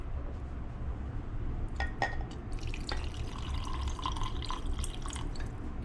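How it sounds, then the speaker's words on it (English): Water brine poured into a jar of peppers for lacto-fermented hot sauce, a steady liquid trickle with small drips and faint glassy clinks, close and fairly quiet, no talking. "we're going to fill this up about halfway"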